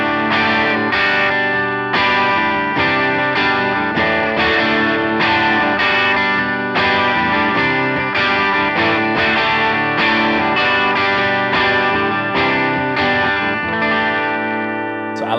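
Electric guitar played through a Vox AC30 amp model on a Line 6 HX Stomp, set just past the edge of breakup, with chorus and effects: steady strummed chords and riffs, loud and close, ringing out at the end with no talk.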